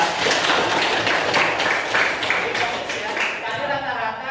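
A classroom group claps in a dense burst of applause that holds steady, then thins and fades over a few seconds, with a voice briefly audible underneath.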